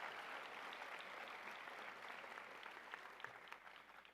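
Audience applause at a college commencement for online and graduate students fills the space as a steady, dense wash of clapping from a large crowd, sustained evenly throughout with no talk over it.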